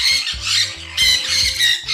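A macaw parrot squawking in a series of harsh, loud, close calls, three or four bursts in quick succession with short gaps between them.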